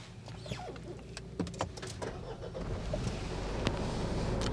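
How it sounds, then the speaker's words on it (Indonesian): A Mitsubishi Pajero engine turns over and settles into a steady low idle hum inside a closed, sound-deadened cabin, with a few faint clicks and rustles early on. "saya akan nyalakan dulu mobilnya"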